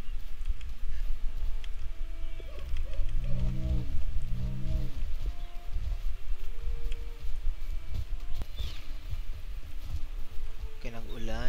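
Steady rain hisses and patters through the whole stretch in the video game Valheim, with occasional tonal, swooping game sounds rising over the downpour.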